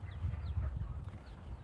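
Farm chickens cluck softly in a backyard coop, low, murmuring calls repeating close by and fairly faint, with no talking over them.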